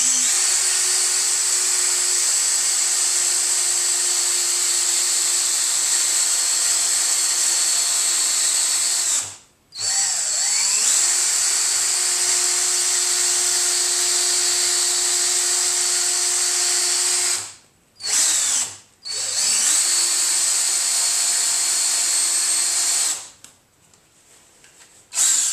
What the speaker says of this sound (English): This is some 60 grit belt sander.